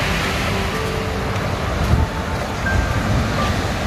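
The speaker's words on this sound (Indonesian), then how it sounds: "suara ombak di pantai kuta" Steady roar of ocean surf washing onto Kuta Beach in Bali, large waves in a continuous broadband rush with small swells, no voices.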